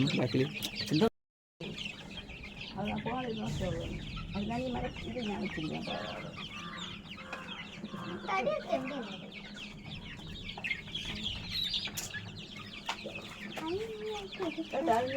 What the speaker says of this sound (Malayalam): അവിടെ തിന്നുന്ന കോഴിയാണ് നമ്മൾ കാണുന്നത്